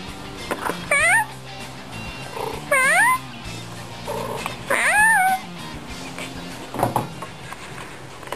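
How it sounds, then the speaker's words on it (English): A cat meows three times at roughly two-second intervals, each call a rising-then-falling cry, close and fairly loud, with a softer fourth sound near the end and light room noise between. "my cat is meowing"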